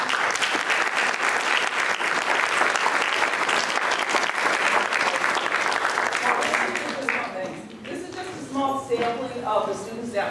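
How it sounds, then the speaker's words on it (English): Sustained applause from a community discussion audience on vaping, honoring youth coalition members; steady dense clapping for about seven seconds, then thinning and overlapping with talk and crowd murmur. "we really should give these kids a really big applause."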